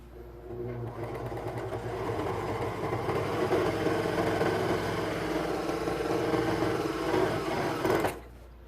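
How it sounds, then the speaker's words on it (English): A serger whirs rapidly and continuously for about seven seconds while overlocking fabric edges, nearby and steady, then abruptly stops. "we're going to serge around the edges just so they're not raw"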